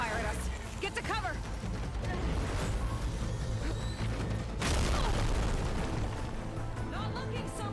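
Machine in Horizon Forbidden West charging and firing at the player, with mechanical whirs, a rumbling boom and crackling bursts over game music and voices talking.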